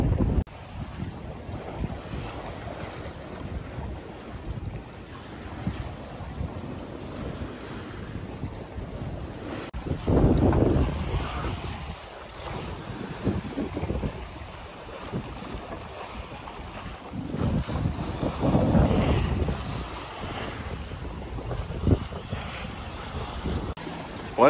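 A sailboat at sea off the Peloponnese in stormy weather, with strong wind roaring across the microphone and waves splashing against the hull, swelling into louder surges of spray around the middle and again near the end.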